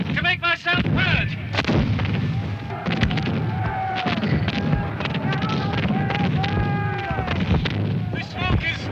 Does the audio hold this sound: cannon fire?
yes